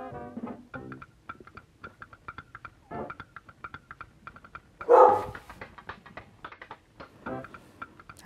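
A dog barks a few times in the background of a home art workspace, one sharp bark standing out among quieter ticking and soft clicks, with no speech.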